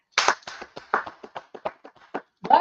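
Scattered handclaps from an audience, about a dozen uneven claps spread over a couple of seconds, fairly close, with a short louder burst at the end.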